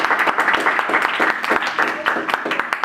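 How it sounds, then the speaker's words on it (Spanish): A small room of attendees at a thesis presentation event gives a lively round of applause, dense overlapping claps rising and falling, with a few voices mixed in. "un aplauso"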